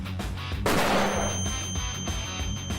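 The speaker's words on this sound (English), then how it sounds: "Thank you for the flashbang, Harry." A flashbang grenade bursts in the video game American Nightmare, a sudden loud blast that rolls into a sustained hiss and a high whining ring, alone without speech.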